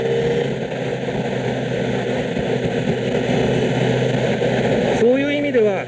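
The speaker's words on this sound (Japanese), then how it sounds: "6速入れてみますけれども、この低い回転域で6速に入れても アクセルをひねるだけでもどこからでも加速する" A 2012 Kawasaki Ninja ZX-10R ABS accelerates in sixth gear from low revs, a steady engine drone under wind noise with a rising whine near the end.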